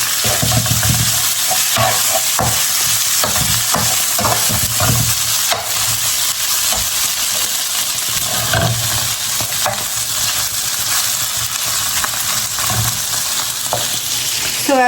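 Mutton keema fries with onion in oil in a pan, a loud, continuous close sizzle broken by repeated scraping and stirring strokes throughout.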